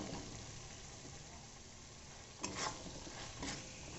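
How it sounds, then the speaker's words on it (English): Mushrooms going into a pan of frying masala for a mushroom biryani, giving a steady sizzle with a couple of short bursts of stirring and splatter about midway, with no talking. "Now to this we will be adding in our mushrooms."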